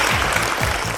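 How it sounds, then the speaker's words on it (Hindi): Audience applause for actor Ajay Devgan at a public event, a steady dense wash of clapping filling the whole second with no pauses. "ये तालियां अजय देवगन"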